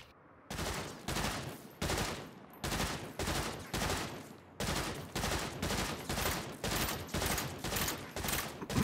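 Gunfire in the Saints Row video game: about a dozen loud, evenly spaced shots fired in a steady rhythm, each a sharp crack with a short tail, with no voices.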